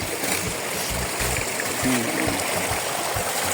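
A mountain stream on a forested peak flows steadily with a dense, continuous rush and splash of water, close by and loud throughout, with no voices.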